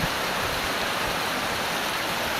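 Water rushes down a hillside in Pawlet in a continuous broadband wash, close and steady from start to finish, with no talk over it.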